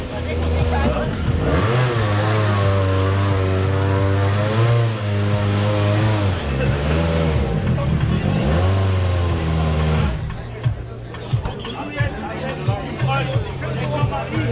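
A rally car engine idles and revs loudly close by as it drives up onto the podium at a modern rally prize-giving in Montbrisonnais, with crowd chatter and a voice over a loudspeaker throughout.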